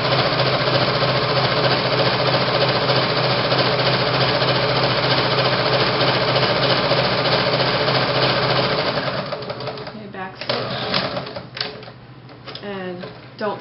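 An older domestic sewing machine runs steadily at close range for about nine seconds, a dense continuous mechanical rattle, then stops and gives way to softer handling and fabric noises during work on a boutique top or dress.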